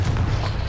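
A Confringo fire spell blast in Hogwarts Legacy, a short, loud, booming burst with a deep low thump that holds briefly and fades, with no talk over it.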